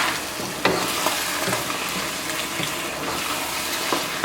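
Potatoes and spinach with garam masala fry in a pan, giving a continuous close sizzle broken by scraping stirs and a few sharp knocks of a utensil against the pan.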